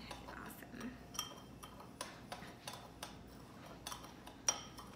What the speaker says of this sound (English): You mix up your dry ingredients first.